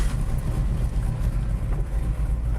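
A 1966 Shelby GT's engine revs in a thick, steady low roar, loud and close, with no voices over it.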